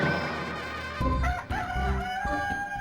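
A rooster crows loudly and close in a single drawn-out call, with clucking-like breaks, over background music in a cartoon scene.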